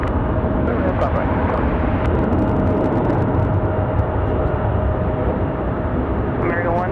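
A plane at Raleigh-Durham International airport on a windy day, a steady broadband roar with gusting wind noise throughout, a faint rising whine near the end.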